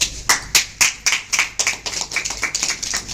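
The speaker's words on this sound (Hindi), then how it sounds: "कुसुम के लिए ताली बजा दो।" A church congregation claps at a Sunday revival service in a loud burst of sharp, irregular hand claps that keeps up steadily, with no talk over it.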